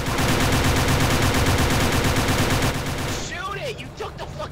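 Rapid automatic gunfire from the submarine game Barotrauma rattles in a dense, loud, continuous burst for about three seconds, then gives way to fainter game sounds.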